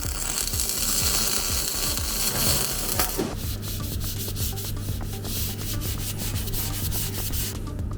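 A sanding tool grinds steadily against the metal chassis of a Datsun 620 project car, cleaning spots where clamps sat before welding, a loud continuous rasp that shifts pitch partway through and carries on alone.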